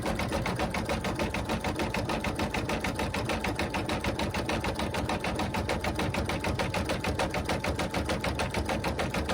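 An embroidery machine stitching an outline of two circles on a fabric gnome hat: a fast, steady, evenly pulsing mechanical chatter, close and continuous with no pauses.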